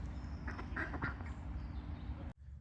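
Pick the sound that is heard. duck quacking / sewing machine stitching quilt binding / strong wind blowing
duck quacking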